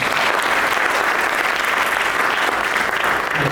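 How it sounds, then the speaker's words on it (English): An audience at a digital health technologies plenary session gives sustained, dense applause, loud and even from start to finish with no pauses. "Let's give them a round of applause."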